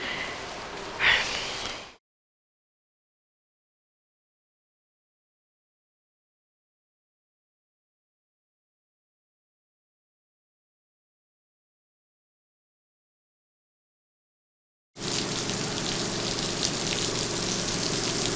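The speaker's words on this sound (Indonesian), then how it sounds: "Aduh, hujannya kok makin deras ya?" Heavy rain falling at night: a steady, close hiss that opens for about two seconds, drops to complete silence for several seconds, then returns and continues to the end without voices.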